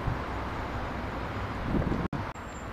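Wind buffeting a microphone on the Rouen quays along the Seine's north bank, a steady close rumbling whoosh with a couple of abrupt brief dropouts near the end.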